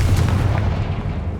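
A Confringo explosive spell cast in Hogwarts Legacy, heard as a short, heavy low booming burst with rumbling decay, loud and close with no talk over it.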